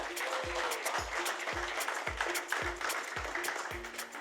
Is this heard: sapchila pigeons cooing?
no